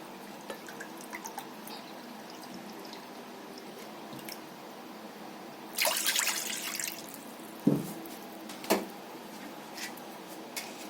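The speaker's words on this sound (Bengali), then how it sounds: "এই বাটির দু বাটি আমি জল নিয়ে নিচ্ছি" Water poured into a bowl while preparing homemade sweet curd (mishti doi), with a brief splashing gush near the middle and a few drips against quiet kitchen background noise.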